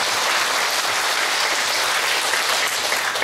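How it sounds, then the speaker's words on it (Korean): A crowd applauds for a monk and a laywoman at a Buddhist talk, dense steady clapping filling the room without a break. "보살님하고 스님한테 박수 한번 해주세요."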